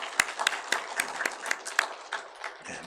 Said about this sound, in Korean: 건강하게 오래 사시라고 우리 축복의 박수 한번 하십시다